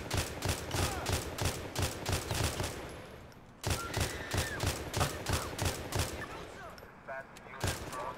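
Rapid bursts of gunfire in the police mod LCPDFR for GTA, loud and close, firing in quick repeated volleys with a brief pause midway, while someone talks over the shooting.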